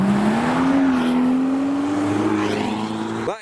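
A modified BMW M3 accelerates away from the Trax 2021 car show. Its engine note climbs steadily and sounds loud and close, then fades slightly at the end.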